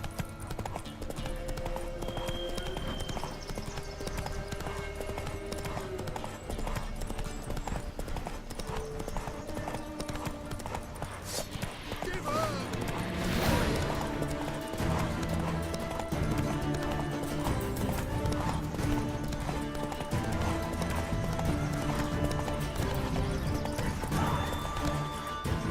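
Hooves clip-clop steadily in a fast rhythm as a horse gallops in The Witcher 3, with a brief whinny and game ambience under it, no talk over the run.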